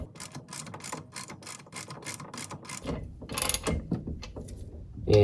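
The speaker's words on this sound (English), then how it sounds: "I'm just using a 3/4 socket and ratchet, and I'm going to screw this bushing in until I feel some tension" Ratchet with a 3/4 socket driving a shift shaft bushing into a Mercruiser lower unit, giving a rapid run of close, crisp pawl clicks for several seconds, ending in a few louder, heavier clacks.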